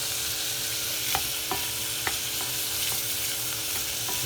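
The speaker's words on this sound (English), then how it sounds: "we're deep frying the onions" Onions deep fry in hot oil in a pan with a dense, constant sizzle, occasionally broken by the scrape of a spoon as they are stirred.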